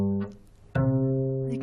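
Two sustained tones forming a perfect fourth, the lower note held briefly, then a short gap, then the higher note entering clearly and ringing steadily to the end.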